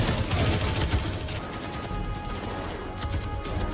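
In a film scene, gang members and a SWAT team exchange gunfire, a dense, noisy barrage of rapid shots and crashing impacts at steady loudness.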